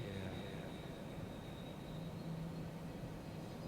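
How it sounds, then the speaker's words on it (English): An airplane passes overhead near the ocean, a steady, low, distant rumbling drone that holds evenly throughout, fairly faint and with no talking. "Occasional plane flying over here."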